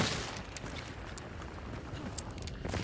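Gunfire in the video game Hunt: Showdown, a dense, noisy burst of shots at steady loudness across the clip, with no talking.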